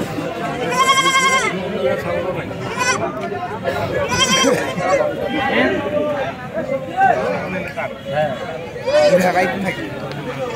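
A mother goat with twin kids at the traditional Rail Bazar livestock market bleats in several loud, wavering calls over busy crowd chatter and nearby voices talking.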